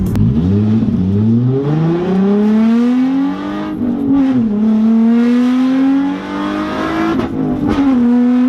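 A gutted Nissan 350Z accelerates hard through a pull, its loud, raspy engine note climbing steeply, dipping briefly at two gear shifts and climbing again, close and with no talk over it.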